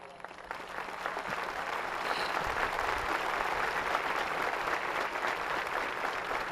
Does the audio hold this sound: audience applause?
yes